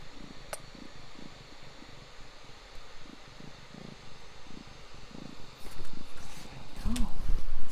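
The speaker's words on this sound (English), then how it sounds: "Oh, big purrs." A cat purrs loudly and close by in a steady, rhythmic rumble, with a soft voice briefly heard near the end.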